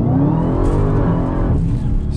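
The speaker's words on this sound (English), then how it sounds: "Do a little pull on the street for you guys, even though I'll get no traction." A Dodge Demon accelerating hard on the street, its engine roaring loud and close with a steady, heavy low rumble and rising whine throughout.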